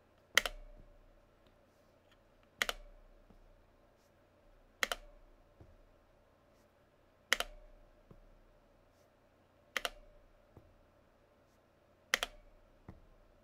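Sharp, isolated keystrokes on a Jupiter 75 mechanical keyboard, with six or seven distinct clacks spaced about two seconds apart over a quiet background.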